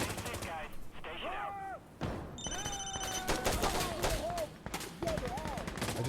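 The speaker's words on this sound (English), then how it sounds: "Our guns are firing, brothers." Gunfire in Insurgency Sandstorm, with repeated shots and bursts through the whole stretch amid game sounds and electronic tones, and voices now and then.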